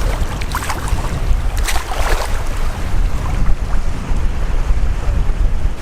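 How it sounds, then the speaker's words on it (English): Westerly wind blows across a clear freshwater lake on New Zealand's Northland west coast, raising small waves; a steady wash of water with heavy wind buffeting on the microphone, and no voices. "it's a westerly wind, so that's why I was kicking up the swells on the ocean, kicking up waves on this freshwater lake"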